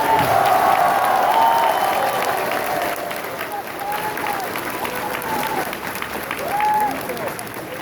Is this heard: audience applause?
yes